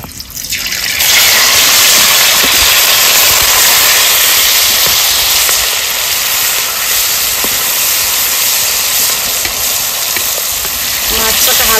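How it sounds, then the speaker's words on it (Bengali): Hilsa fish frying in hot mustard oil seasoned with black cumin, a loud steady sizzle and hiss that starts abruptly and holds strong throughout, with no talk over it. "ফোড়নটা ভেজে নিয়েছি, মাছগুলো দিয়ে দেবো।"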